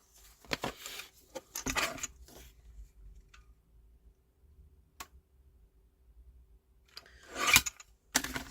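Trimming paper for a stamped scrapbook album, with dry scraping and rasping strokes of a paper trimmer in a couple of short bursts separated by near silence, close and moderately loud.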